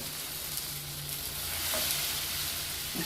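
Batter fries in a pan after being flipped, giving a soft, continuous sizzle and crackle with a faint low hum beneath. No one speaks.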